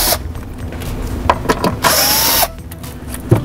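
Power drill removing two Phillips screws from a plastic car trim piece, short whirring bursts followed by one sustained spin lasting about half a second, close and loud.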